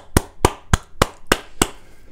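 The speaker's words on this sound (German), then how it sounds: "ich klatsche auch mal mit" Six sharp hand claps in a steady, even rhythm, close and fairly loud, each one ringing out briefly before the next.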